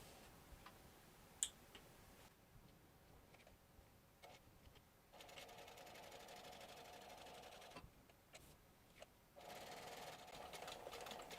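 A sewing machine stitching a crossbody bag pocket, running in short steady bursts with brief pauses as it back stitches at the start and end, faint and close with no talking.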